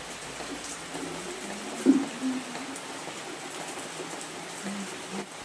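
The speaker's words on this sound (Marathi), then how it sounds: "आत्ता थोडासा पाऊस बघा कमी झालेला आहे." Rain that has been easing off patters steadily as a soft, even hiss with occasional louder drips, moderately near, with no voices.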